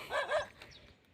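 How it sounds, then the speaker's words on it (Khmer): A dog barks twice in quick succession in an open rural field east of a Cambodian village; the short yaps are moderately distant and followed by quiet outdoor ambience. "នេះឆ្កែព្រុស"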